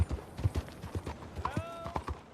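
A horse trots in Red Dead Redemption 2, its hooves knocking out a quick, steady clip-clop rhythm at moderate volume, with a brief whinny partway through and no speech.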